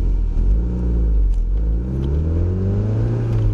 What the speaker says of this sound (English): Drop it in second gear. Full boost, let's go.